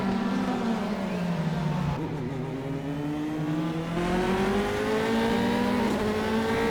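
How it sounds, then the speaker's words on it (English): A Formula 3 race car engine in Automobilista at Interlagos drones loudly and continuously, pitch rising and falling through gear changes and throttle, with faint commentary blended underneath. "So Florian doing a great job here, the number 86 car."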